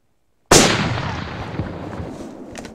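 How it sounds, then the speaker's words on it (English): A single sharp rifle shot cracks out during a brown bear hunt in Russia, loud and close, then rolls into a long echoing decay across open country before fading. "The shot felt good."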